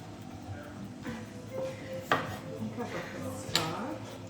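A knife chops a vegetable at an angle on a cutting board in a home kitchen, giving a few sharp, close knocks spaced irregularly, with quieter taps between them.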